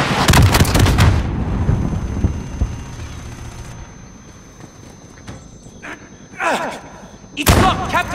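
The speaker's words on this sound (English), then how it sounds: "Missiles incoming!" Incoming missile explosions in the Call of Duty Modern Warfare video game, a loud cluster of heavy blasts and rumbling impacts up front that fades into a quieter stretch before two further sharp bursts hit near the end.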